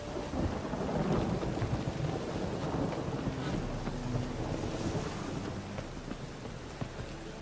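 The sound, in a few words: rain in The Witcher 3 video game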